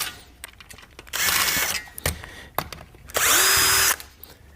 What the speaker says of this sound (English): So let's get these screws out.